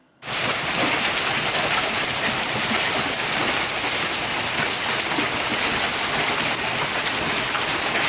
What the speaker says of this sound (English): we had the most epic hailstorm yesterday